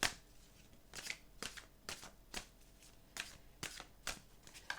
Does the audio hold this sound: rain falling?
no